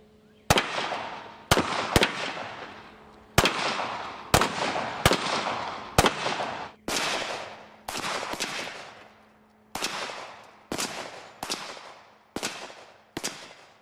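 Gunshots from an assault rifle fired at a gas cylinder, about fifteen loud single cracks spaced irregularly, each one trailing off into a long outdoor echo.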